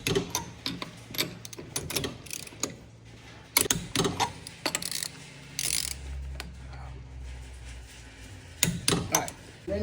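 Lug nuts on a dually wheel of a JDM mini truck being tightened in a star pattern, with repeated sharp ratcheting clicks and metallic clanks in short bursts, close by, with brief low rumbling between.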